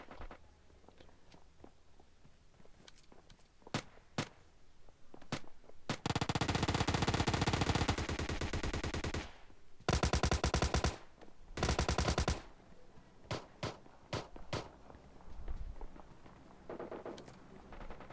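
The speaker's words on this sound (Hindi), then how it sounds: "देख सकते हो फायरिंग कहाँ से आ रही है" In a battle royale video game, scattered single shots give way to long bursts of loud automatic gunfire, then more separate shots, with faint footsteps in between.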